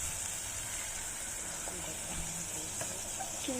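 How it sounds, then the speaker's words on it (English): Tofu and bean sprouts fry in a pan with a steady hiss, and a few soft scrapes and clicks of stirring rise over the constant sizzle. "I'm gonna stir it before adding the ginger garlic paste."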